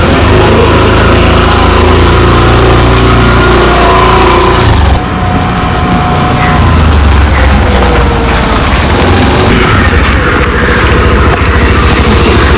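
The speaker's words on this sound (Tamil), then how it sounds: "இந்த பட்டனை புஷ் பண்ணோம்னா ஸ்டார்ட் ஆகிடுது வண்டி" A 2024 Suzuki Access 125cc scooter engine runs loud and close, a steady buzzing drone with rising revs as it rides off, heavy wind-like rumble filling the whole stretch.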